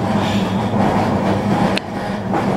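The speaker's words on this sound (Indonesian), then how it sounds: "Ketika kereta keluar dari terowongan" Train rumbling steadily through a tunnel, a continuous loud low roar with rail noise, a brief sharp screech near the end before the rumble settles slightly quieter.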